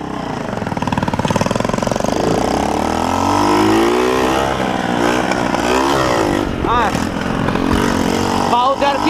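Moped engine running loud and close, its pitch rising and falling as the throttle opens and closes while riding at night, with people talking over it.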